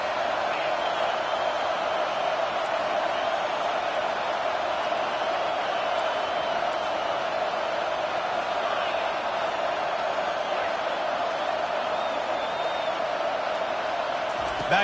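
A steady, dense stadium crowd roar from a College Football 25 video game fills the whole stretch at an even level, with a commentator talking over it.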